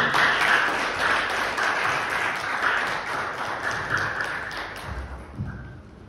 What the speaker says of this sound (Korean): 이 시간 박수로 맞이하도록 하겠습니다.